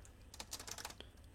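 Rapid keystrokes on a computer keyboard while typing PHP code, a quick run of close, faint clicks with a final sharper tap, no speech.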